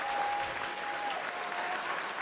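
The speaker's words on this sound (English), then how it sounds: "You guys got to give yourselves a little round of applause." A crowd applauds during a Dead by Daylight tenth-anniversary livestream, a dense, even wash of clapping that holds steady throughout.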